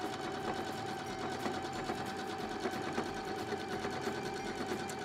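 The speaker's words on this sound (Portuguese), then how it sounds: "Aí agora a gente faz uma costura cobrindo as costuras anteriores" Sewing machine stitching a covering seam on a crib pillow, running steadily and close with a continuous whirring rattle throughout, no talking.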